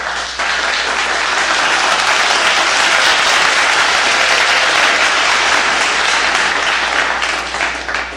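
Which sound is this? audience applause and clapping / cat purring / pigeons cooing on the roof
audience applause and clapping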